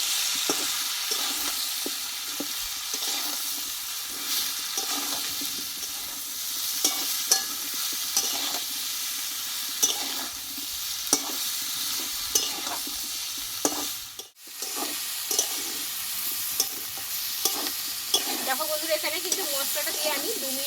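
Mixed vegetables for a five-vegetable curry sauté with cumin powder, turmeric and salt, giving a steady close sizzle across the whole stretch while a spatula scrapes and taps the pan at a regular pace, with no talk.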